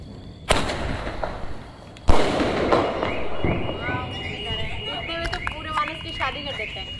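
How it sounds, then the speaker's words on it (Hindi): Diwali firecrackers burst outdoors: two sharp, loud bangs about a second and a half apart, followed by crackling and fizzing, with children and adults talking and shouting throughout. "जल्दी जल्दी बम चला रहा है।"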